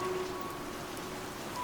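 Steady rain falls in a soft, even wash of patter on a surface, continuous and moderately quiet throughout with no voices.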